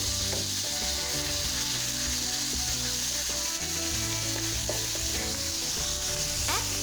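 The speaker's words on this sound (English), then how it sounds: "Then add minced pork. Stir it again and then let it stick together." Minced pork stir-frying for Thai basil pork (pad kra pao), a loud, steady sizzle throughout with scraping of a utensil stirring the meat in the pan, no voices.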